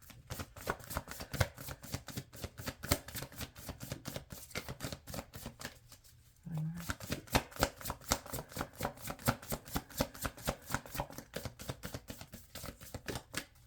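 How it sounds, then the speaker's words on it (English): Tarot cards are shuffled repeatedly in quick, crisp riffles, with a brief pause midway before the rapid flicking resumes. "I'm going to shuffle one more time."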